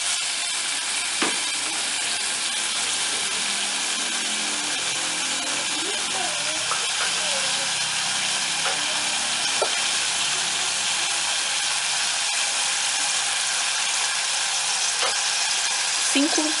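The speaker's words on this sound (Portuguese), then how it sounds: "Aí espera um pouquinho até ela derreter." Margarine melts in a hot pan with a constant, fairly loud sizzle and hiss, broken by a few faint knocks and scrapes.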